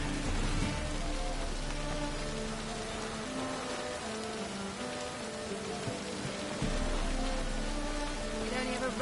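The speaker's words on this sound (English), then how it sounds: "It only ever rains these days." Rain falls in the video game Witcher 3, a dense, steady patter on surfaces that runs continuously with faint low rumbling underneath and no clear speech.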